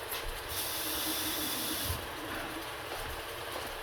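Pork loin sears in a hot pan on a stove turned to its highest setting, giving a steady, close hiss and sizzle that stays fairly even and faint, with no talking.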